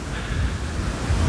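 Waves of the Sea of Azov wash onto Molodezhny beach at Golubitskaya, a close, continuous surf rush mixed with heavy wind buffeting on the microphone.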